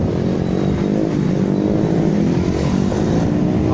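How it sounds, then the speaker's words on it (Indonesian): Strong storm wind roars steadily and loudly at an outdoor market stall in extreme weather, a dense, continuous rumbling rush without pause. "Anginnya kencang banget teman-teman"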